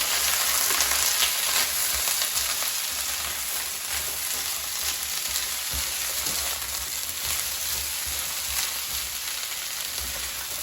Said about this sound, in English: now oil is sizzling, so you can really hear it.